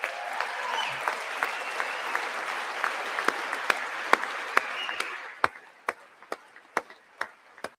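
Applause from a crowd in a legislative chamber during a State of the Union speech, a steady patter of clapping that thins out, leaving sharp isolated claps near the end.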